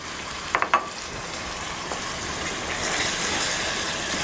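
Tomato passata simmers and sizzles in a pan, a steady broadband hiss with a few soft clinks near the start, the bubbling growing slightly louder toward the end, no talking.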